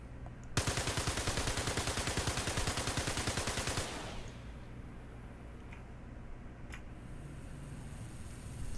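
An automatic gun in Star Citizen fires a long, steady burst of rapid, evenly spaced shots for about three seconds, loud and close, then stops abruptly, leaving quiet ambience with a few faint clicks.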